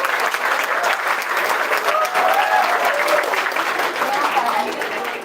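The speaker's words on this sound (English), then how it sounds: "Yes, please clap. Don't stop clapping." Audience at a convocation ceremony for SIES GST applauding, a dense, continuous wash of many hands clapping that holds steady throughout, with faint voices mixed into the crowd noise.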